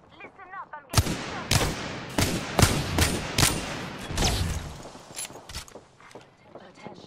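Rapid bursts of gunfire in the battle royale video game Apex Legends, loud sharp shots in quick clusters, with a player's voice briefly heard before the firing starts.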